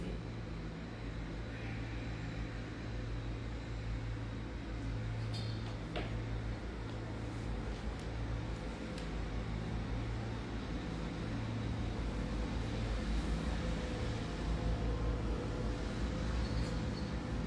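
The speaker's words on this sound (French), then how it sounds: "J'espère que vous n'avez pas été trop dérangés par le bruit du camion poubelle dans la rue." A heavy garbage truck engine idles and rumbles steadily in the street nearby for the whole stretch, with faint clanks and mechanical noises over the low drone.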